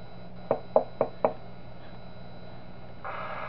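A security door closes in the horror video game Five Nights at Hickey's Remastered. Four evenly spaced sharp clicks are followed by a short pause, then a steady mechanical whoosh against a quiet background hum.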